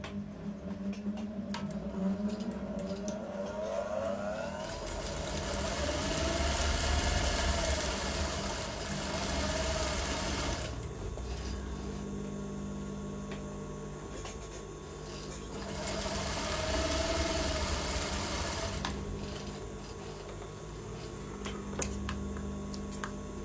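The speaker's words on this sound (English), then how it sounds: "So I'm going to sew from here to this place." A sewing machine stitching the elastic casing of palazzo pants, running in two long steady whirring bursts separated by a quieter pause, with faint ticking and handling sounds in between.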